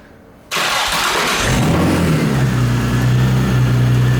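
A supercharged Infiniti G35 engine cranks briefly, then catches and settles into a loud, steady idle with a low droning hum, heard close up after a moment of quiet, with no talking.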